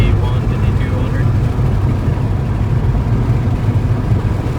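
A Ford engine revs steadily at about three-quarter throttle, a loud, continuous low roar and hum held for several seconds, heard close, with people talking over it at times.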